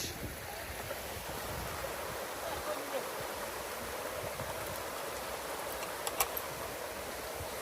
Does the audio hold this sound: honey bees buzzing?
no